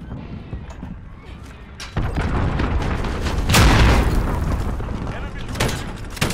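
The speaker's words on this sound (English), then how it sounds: "Enemy cruise missile incoming." Cruise missile explosion in Call of Duty: Modern Warfare, a sudden heavy boom that swells into a sustained rumbling roar, loud and close, with voices talking over it.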